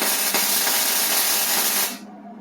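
Tack welding on a project, a steady loud broadband crackling hiss lasting about two seconds and then cutting off abruptly, heard up close with no talking.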